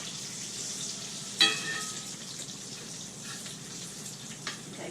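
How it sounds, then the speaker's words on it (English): Bacon fries on a stovetop in a steady, soft hiss that runs throughout, broken by one sharp clatter early on and a faint tap near the end, with no talking. "I flip the bacon"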